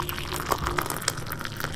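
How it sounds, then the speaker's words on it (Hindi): Water is poured into a simmering paneer butter masala gravy with tomatoes in a pan, giving a soft hissing, sizzling splash that runs steadily and close by. "तो अब मैं पानी ऐड कर दूंगी।"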